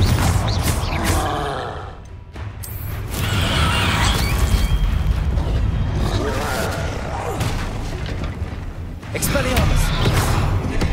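Confringo spell explosions in the video game Hogwarts Legacy, loud booming blasts and crashing impacts amid dense combat noise, with grunts and a shouting voice mixed in.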